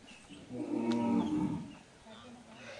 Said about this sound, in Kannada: ಇಲ್ಲಿ ನೋಡಿ ಎಷ್ಟಿವೆ ದನಗಳಲ್ಲ ಒಂದು ಐವತ್ತು ದನಗಳು ಉಂಟು ಇದರಲ್ಲಿ ಎಲ್ಲ ಸೇರಿ